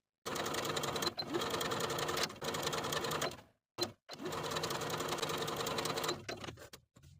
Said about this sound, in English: we're going to sew basting stitches through both layers of the ruffle along the raw edge from one end all the way across to the opposite end